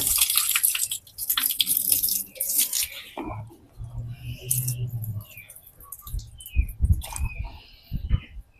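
Water splashing and trickling as field snails are washed, with irregular sloshes and drips, loudest early on, then softer splashes and clinks, close up with no voices.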